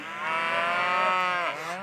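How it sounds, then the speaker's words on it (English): A herd of cows moos in overlapping, drawn-out calls that swell together near the mic for almost two seconds, loud and continuous with a slight dip near the end. "the man is playing to a sold-out audience full of cows singing moo."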